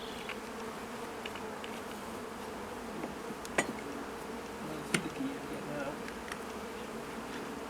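Honey bees buzzing steadily around an opened urban hive during a colony split, a dense low drone with a couple of brief knocks, fairly faint and without talk.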